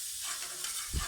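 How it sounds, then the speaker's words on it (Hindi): Garlic and ginger paste fries in cooking oil, giving a faint, steady sizzle with light stirring and a soft low thump near the end, no voices. "इसको हल्का सा फ्राई करेंगे।"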